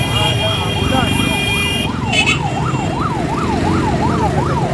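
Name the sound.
ambulance siren in traffic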